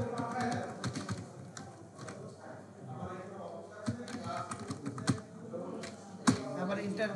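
Keys clatter in a steady run on a computer keyboard while business card details are entered in Adobe Illustrator, and a voice keeps talking over the close typing.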